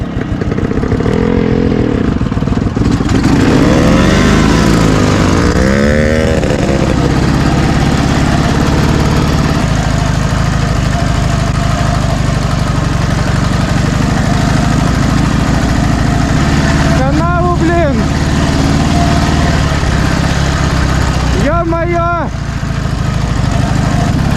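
A Dnepr MT 11 or Minsk 125 motorcycle engine running loud and close, steady rough idle with revving swells, while people talk over it.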